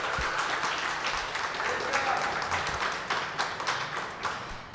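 Applause from an audience at a creative placemaking summit honoring panelists, a sustained wash of clapping with a few sharper nearby claps and faint voices mixed in.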